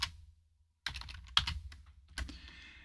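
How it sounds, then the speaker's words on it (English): A computer keyboard types out a short word during Photoshop work, a few quick, soft clicks in clustered bursts around a brief silent gap, close and quiet with no talking. "and I'll just type in the word bottom."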